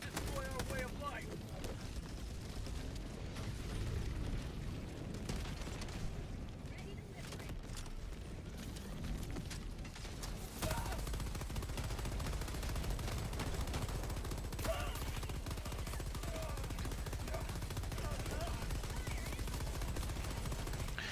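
Bursts of rapid gunfire from shooty walker enemies in Helldivers 2 rattle through a chaotic firefight, repeated machine-gun volleys and booms under frequent talking, growing denser and louder in the second half.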